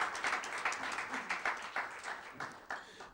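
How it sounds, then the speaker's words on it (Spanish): Audience applause for a poet at a Spanish-language poetry book presentation, a brief patter of scattered hand claps at moderate distance with individual claps standing out. "Un aplauso para Juan Revelo"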